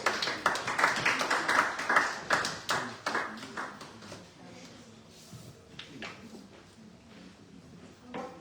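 A burst of hand clapping from a small crowd, fairly close, fading out after a few seconds into quieter room sounds.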